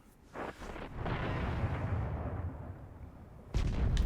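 An enemy tank fires in a sci-fi shooter game, a deep rumbling boom that swells and rolls on for a couple of seconds, followed by a second heavy blast near the end.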